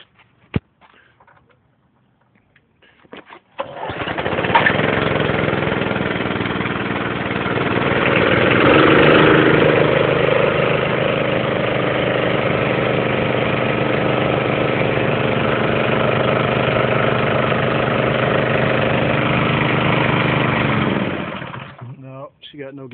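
The gasoline engine of an Emglo air compressor starts after a few seconds and runs at a steady, loud, close mid-pitched drone for most of the clip. It then cuts out near the end.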